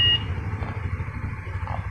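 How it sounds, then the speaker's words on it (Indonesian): Short electronic beep from the smart-key alarm remote on a Honda Sonic motorcycle, a single bright chirp at the start followed by quieter low background noise. "sampai ada notifikasi bunyi tit yang di remote"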